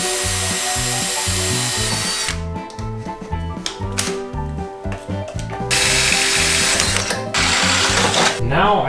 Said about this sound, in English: I'm just gonna drill a hole right through the rear fender